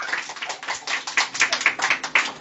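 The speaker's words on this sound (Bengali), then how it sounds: "হ্যাপি মাদার্স ডে বলো সবাই, হাততালি দাও, হাততালি দাও" Group applause at a Mother's Day celebration at an art school, a steady run of many hands clapping with rhythmic bursts, fairly close and filling the whole moment.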